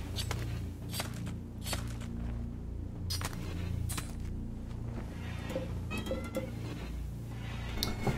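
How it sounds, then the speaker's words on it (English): Pet cat meowing loudly indoors, several sharp, repeated yowls spread across the stretch over a low, steady background hum, with no talk. "And my cat just busted into the room, screaming at me."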